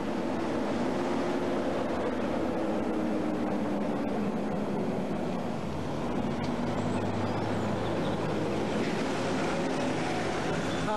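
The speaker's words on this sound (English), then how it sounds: "It sounds like a big lorry behind." A steady low engine rumble of a large lorry behind a cyclist in the Welland Valley drones on throughout, constant and fairly loud, with a broad road-noise wash and no clear breaks.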